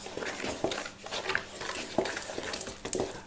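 Salt, oil, basil and flour being stirred together in a bowl for garlic and basil grissini dough, a faint, irregular scraping and knocking of a utensil against the bowl, with a few sharper taps.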